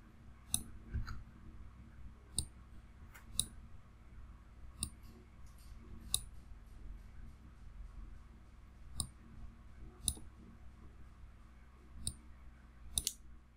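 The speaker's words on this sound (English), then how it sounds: "right click on your mouse to exit the function" A computer mouse clicks repeatedly during 3ds Max modeling work, with quiet, sharp, irregularly spaced clicks over a low steady hum, and no voices.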